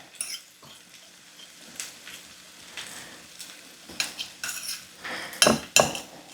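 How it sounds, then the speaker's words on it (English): Boiled eggs being mashed with the back of a spoon in a bowl, irregular metallic scrapes and clinks that grow busier and louder toward the end, close and without talk. "Let's just smash these eggs up"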